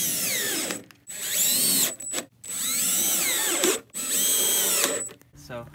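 A loud power tool cuts a piece for a DIY speaker box in three long whining bursts, with pitch sweeping as the cut loads and eases and short silent gaps between passes.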